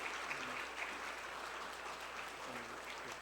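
Congregation clapping during a Sunday church service plaque presentation, soft, even applause heard from a distance, faint but continuous across the whole moment.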